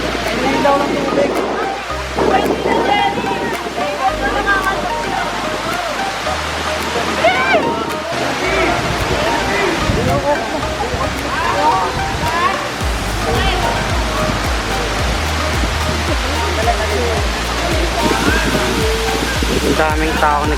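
Tumalog Falls in Cebu, Philippines, roars in a loud, steady rush of falling water close by, while people talk and exclaim over it.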